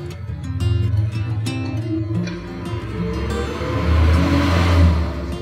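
Electric motor of a wood planer (korter) machine running steadily, a loud sustained mechanical drone with layered hum and whir that swells slightly toward the end, no talk.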